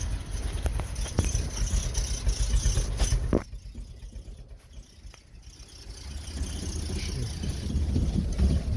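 A sputtering engine barely running at very low RPM on roughly two cylinders, with an uneven low putter and a few sharp clanks, dipping quieter midway before the rough idle swells back.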